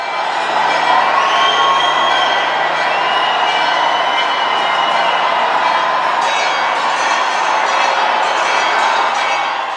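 A large crowd inside a church erupts in joyful cheering and shouting at the Holy Fire ceremony, a loud, sustained roar of many voices with high whoops rising above it throughout.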